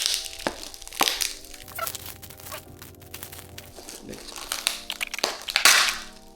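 The cardboard box of a CUDIS smart ring being opened, with crinkling, tearing and crunching of packaging, sharp cracks and rustles close by, and a voice talking over it.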